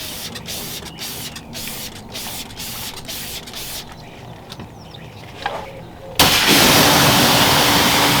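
Spray-on rinse-off sealant is misted onto a car in a run of short, regular hissing spray bursts, followed near the end by a sudden loud, continuous rushing spray.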